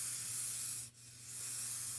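Scotchgard fabric water shield sprays steadily onto twine coasters from an aerosol can, a close continuous hiss that breaks off briefly near the middle and then resumes, with no voices.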